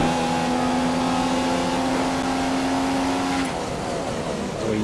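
A Honda-powered Formula 1 car roars steadily in a racing video game set at the 2015 Abu Dhabi race, a loud, continuous high engine whine with no voices over it.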